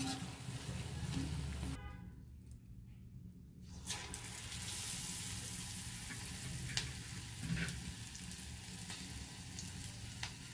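Green chillies frying in hot oil for bajji: a dense, hissing sizzle fills the scene, briefly cut off for a couple of seconds before resuming with scattered crackles and pops.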